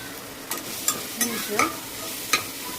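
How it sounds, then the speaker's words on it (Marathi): Mung beans and potato are sautéed with turmeric in a pan for khichdi, giving a steady soft sizzle broken by several sharp scraping stirs of a spoon. "आता हळद टाकून चांगलं आपण परतून घेणार आहोत"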